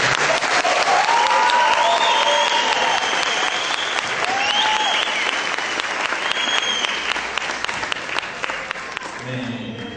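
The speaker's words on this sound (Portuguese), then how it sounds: "Eu queria que você desse uma salva de palmas." A church congregation breaks into sustained applause after a baptism service, dense, steady clapping that carries loud throughout and slowly thins toward the end.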